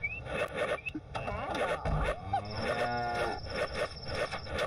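Cows mooing in the farming strategy game Beasts & Bumpkins, with several drawn-out lowing calls over a busy game soundscape of chimes and effects, no speech.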